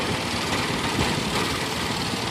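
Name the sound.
antique submersible engine tractor running on kerosene and water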